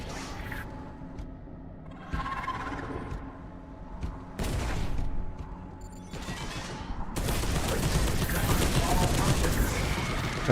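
Bursts of gunfire from a Warhammer video game, with clusters of shots breaking out at intervals and a dense, sustained volley toward the end, mixed with game music and background effects.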